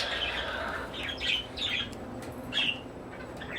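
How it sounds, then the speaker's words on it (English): Pet parakeets chirp indoors in short bright bursts, about five quick squawky calls spread over a few seconds. They sound close, over a low background hum, with no talking. "What are you guys chirping about?"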